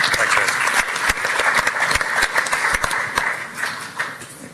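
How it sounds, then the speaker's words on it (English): Audience applause at a FIDIC conference panel on cities, with dense, sharp hand claps ringing out steadily for several seconds across a hall, carried over a lively crowd murmur. "I'll get a round of applause."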